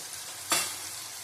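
Turmeric and Kashmiri chilli powder hitting hot oil in a pan, a single sudden sizzling hiss that flares up and then fades, fairly quiet with no voices.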